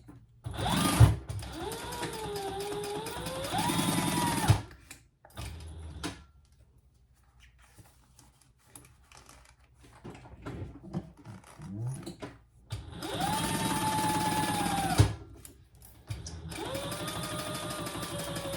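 A sewing machine stitches a seam in thin leather for a waist pack, running in two loud, close bursts of rapid whirring stitches with rising and falling motor pitch, separated by a quiet stretch of faint handling noise.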